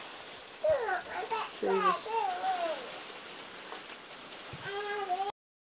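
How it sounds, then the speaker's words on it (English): Steady rain patters over a football pitch in a video game, a soft, constant hiss beneath a voice speaking over it. "some footballers enjoy a rainy day"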